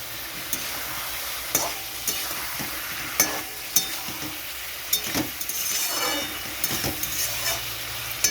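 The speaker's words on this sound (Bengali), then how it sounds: "আর একটু কষাবো" Papaya, potato and katla fish curry being stirred and sautéed in a pan, with a steady close sizzle under repeated scraping strokes of a spoon at an irregular rhythm, with no talking.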